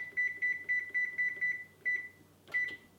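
A kitchen oven beeps while being preheated to 400 degrees: a run of seven short, evenly spaced electronic beeps, then a single beep after a brief pause and one more slightly rougher beep, clear and close with no talk.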